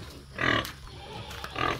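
A pig on a small farm gives two clear, close grunting snorts roughly a second apart, loud and rough, with no talking over them.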